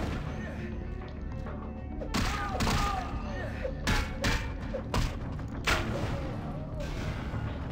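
Gunfire in the video game Vampire: The Masquerade - Bloodlines comes as a series of sharp, loud shot bursts spaced a second or so apart over a low ambient rumble, with faint voices underneath.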